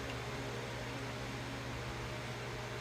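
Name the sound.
electric fan running in the background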